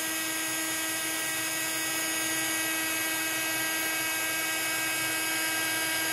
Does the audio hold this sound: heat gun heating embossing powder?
yes